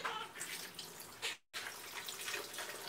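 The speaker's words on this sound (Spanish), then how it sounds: "Vamos a poner una taza de agua." A cup of water is poured into a cooking pot holding tomato and half a small onion, giving a steady splashing rush with a brief pause midway.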